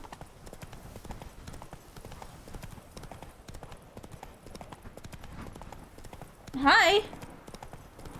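A horse gallops through a city in The Witcher 3, a fast, steady patter of hoofbeats running throughout at moderate loudness, broken near the end by a short, loud shouted greeting from a man.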